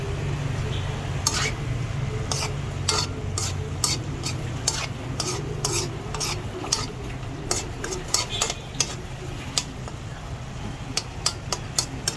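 Beef sizzling in a pan with garlic and onion, a steady frying hiss under repeated sharp metallic scrapes and clinks of a utensil stirring against the pan.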